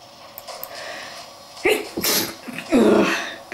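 A person sneezes loudly and close up, with a short breathy build-up followed by two sharp bursts, during German-language gaming commentary.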